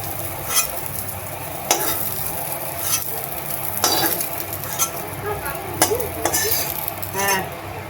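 Fried cauliflower lifted out of a frying pan of refined oil, with a continuous sizzle under repeated scraping and clinking of a utensil against the pan, close and fairly loud.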